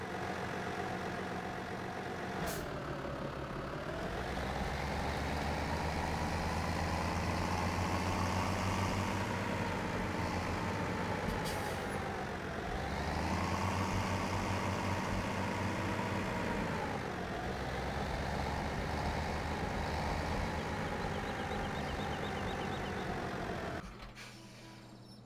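Tractor engine idling in Farming Simulator 17, a steady low rumble that swells and settles a few times with brief hissing bursts, then drops off near the end.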